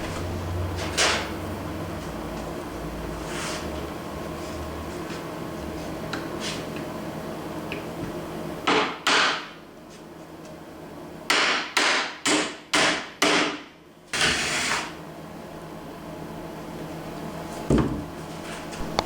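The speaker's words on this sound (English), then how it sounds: "Attach the sides with glue and 2-inch nails." Nails, two inches long, being hammered into the wooden sides of a chicken feeder: a cluster of sharp, loud strikes in quick succession, with a few isolated knocks before and after, over a quiet room background.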